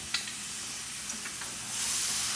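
Sausage gravy browning in a frying pan sizzles softly after a splash of milk goes in. A steady low hiss builds toward the end, with a few faint stirring clicks.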